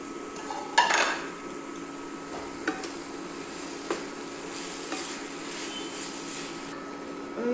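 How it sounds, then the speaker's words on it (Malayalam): Cooked egg noodles being tossed and mixed in a pan, with a close utensil clanking against the metal and scraping along it in a few distinct knocks over a low sizzle, and no voices. "ഞങ്ങൾക്ക് വേവിച്ചേക്കണ നൂഡിൽസ് ഇട്ട് മിക്സ് ചെയ്തെടുക്കാം."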